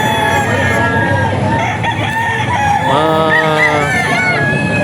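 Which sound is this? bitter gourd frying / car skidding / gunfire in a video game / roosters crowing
roosters crowing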